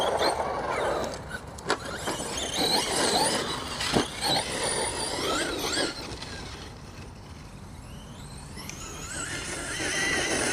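A Traxxas Sledge 6s RC truck fitted with a 2200kv motor runs nearby, a whining electric motor rising and falling in pitch over rolling noise, fading somewhat toward the end.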